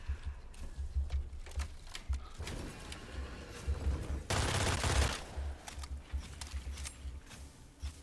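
Rapid automatic turret fire in the dark fantasy shooter Witchfire, a steady stream of close, punchy shots with a louder sustained burst in the middle, no speech.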